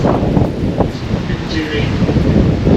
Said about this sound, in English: And I'll bet that wind noise is really good.